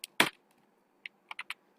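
A handful of computer keyboard keys are tapped, one loud clack first, then a short pause and a quick run of four lighter, crisp keystrokes, close and isolated in a quiet room.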